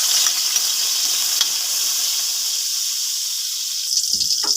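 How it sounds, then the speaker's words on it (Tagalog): Garlic sizzles and hisses steadily in hot oil in a pan as the base for a shrimp sauté, a close, continuous frying crackle with faint stirring. "Lagyan na ng konting mantika. Lagyan na natin ng bawang."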